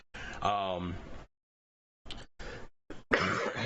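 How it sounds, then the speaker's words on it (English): Several short, harsh coughs come in separate bursts after a stretch of voiced, groaning sound, close to the listener with brief silences between them. "please forgive me for the coughing"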